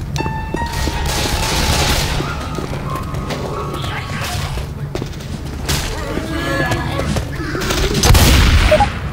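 Gunfire in the Left 4 Dead 2 No Mercy campaign, with sustained rapid shots and bursts running through the clip and a louder spike near the end, mixed with game voices and ambient noise.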